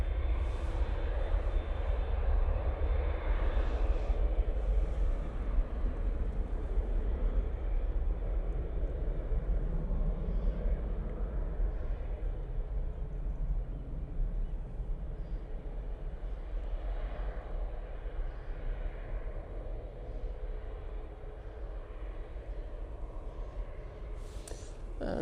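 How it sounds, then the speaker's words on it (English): A TUI Boeing 787-8 airliner departs Manchester Airport, a faint, distant low engine rumble that fades gradually over about 25 seconds. "And there goes TUI. Speaking of TUIs, we have this 787-8."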